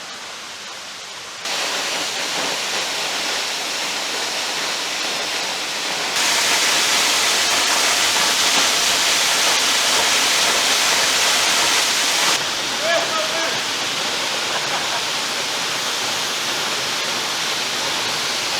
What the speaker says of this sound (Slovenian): Kar konkreten slap je tole.